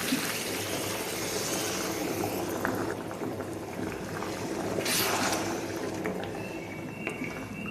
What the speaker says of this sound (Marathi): आता आपण यामध्ये पाणी टाकून घेऊ